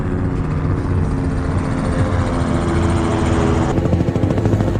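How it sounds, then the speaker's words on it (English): A medevac helicopter passes overhead at a King of the Hammers off-road event, its rotor and engine making a loud, steady, close drone that fills the whole stretch without a break. "Look at that helicopter."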